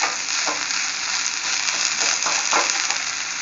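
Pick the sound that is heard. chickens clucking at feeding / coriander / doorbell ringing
coriander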